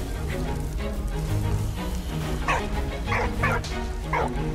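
Dog barking in the World War I video game Valiant Hearts, a few yips and barks over a steady ambient game soundscape, no talk.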